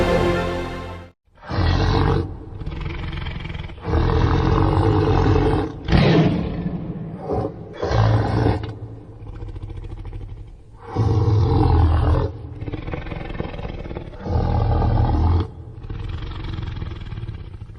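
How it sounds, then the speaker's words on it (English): An imagined roar of a prehistoric Smilodon sabre-toothed cat, a series of loud, rough, drawn-out roars and snarls separated by brief pauses, close and powerful. "Do you also want to hear what another prehistoric animal might have sounded like? Well, here's Smilodon for an example."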